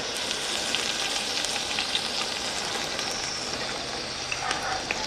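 Ginger garlic paste frying in hot oil for a chicken biryani gives a steady, close crackling sizzle with faint sputters throughout.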